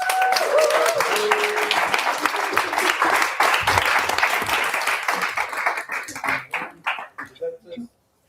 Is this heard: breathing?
no